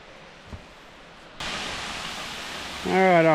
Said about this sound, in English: Alright, our first look at Mule Trail Falls.